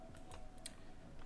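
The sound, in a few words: pressing keys on a computer keyboard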